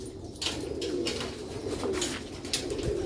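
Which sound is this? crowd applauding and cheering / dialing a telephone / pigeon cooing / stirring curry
pigeon cooing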